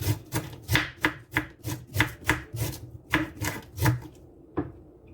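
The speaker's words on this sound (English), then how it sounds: "Just cut them up into smaller pieces." A knife chops cabbage into small pieces on a board, about a dozen firm, quick, evenly spaced strikes close by, then a short pause before one last cut. No one speaks.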